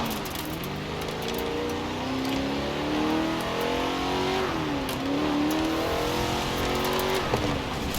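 Car engine in the Forza Horizon 4 racing game revving and climbing through gears, pitch rising and dropping with shifts in a steady loud drone, a brief tire noise near the end.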